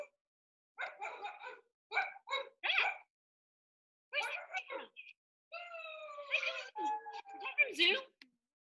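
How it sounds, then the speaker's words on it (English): Dogs inside a house give several bursts of sharp barks, then longer whining, yelping calls, loud and close, with silence between the bursts. "It's my dogs. They're in the house and they're making a lot of noise."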